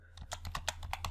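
A brief, faint burst of typing on a computer keyboard, about eight quick keystrokes in an uneven rhythm.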